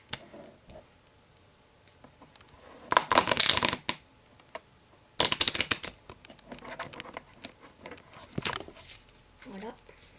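Playing cards are shuffled by hand for a magic trick, crisp riffling bursts coming in a few separate rounds with quiet pauses between them and a voice speaking at times.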